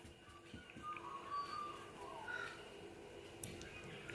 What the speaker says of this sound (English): We do have a lot of trees around, so we have a lot of birds.